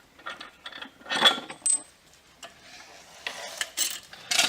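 Bolts being removed from the main frame section of a MotocTec electric trike during assembly: a series of light metallic clinks and rattles, close by, scattered irregularly with a few brighter taps.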